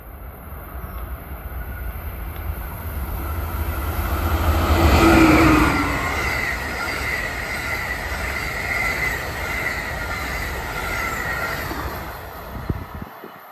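A SEPTA commuter train on the Northeast Corridor rumbles past, swelling to a loud peak with a squealing wheel tone and fading to a steady roll as it continues.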